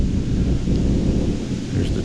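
Thunder rolls as a low, continuous rumble over steady rain on a Michigan trail, loud and close for the whole short stretch, with no clear talk.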